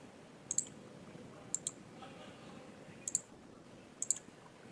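Computer mouse clicking while deleting database items such as queries, forms and reports: four crisp double-clicks spaced roughly a second apart, close and quiet, over a faint steady room hum.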